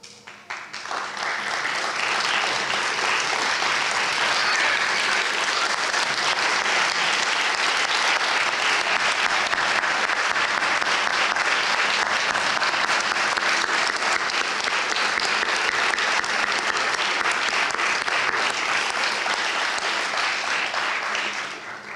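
Sustained applause from an audience at a distinguished teaching award ceremony, a dense, even wash of clapping that holds steady for the whole stretch before tapering at the end.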